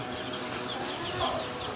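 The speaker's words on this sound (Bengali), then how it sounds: "এটা দেশি মুরগি, আমার ফার্স্ট মুরগি দেশি।" Desi hens on a small farm give soft, close clucks in a low, continuous murmur over faint background noise.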